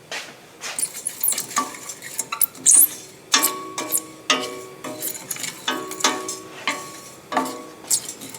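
Something toasts in a pan with olive oil and butter for pasta con le sarde. A soft sizzle runs under sharp, irregular clinks and scrapes of a utensil stirring against the pan, close and fairly quiet.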